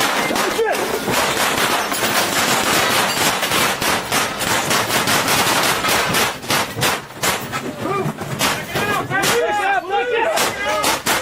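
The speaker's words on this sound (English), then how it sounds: "The officers retreated once again as Wade opened fire on them." Gunfire during a police standoff as officers near a garage, with loud, dense bursts of sharp shots in rapid irregular succession throughout, some louder cracks standing out, with voices mixed into the noise.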